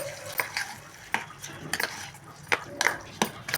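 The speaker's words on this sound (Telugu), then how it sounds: "ఇప్పుడు మొత్తం మిక్స్ చేసేసుకుందాం" A spoon stirs the hot tempering into yogurt rice for daddojanam, giving a series of sharp clinks and scrapes against the pot in an uneven rhythm, close up and alone.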